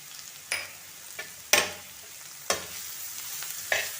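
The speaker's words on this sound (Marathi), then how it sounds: "आणि व्यवस्थित परतून घ्यायचं." Drumstick curry being sautéed with turmeric, kitchen king masala and a little sugar: a low sizzle runs under a few sharp spatula scrapes against the pan, spaced about a second apart.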